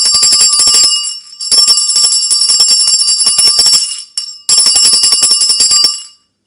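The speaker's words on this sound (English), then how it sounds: "The way you ring the bell tells where it is the beginning or where it is the ending." A small bell rings in rapid bursts to end a yoga class, a bright, sustained metallic trill. It comes in three loud spells separated by short gaps, then cuts off abruptly.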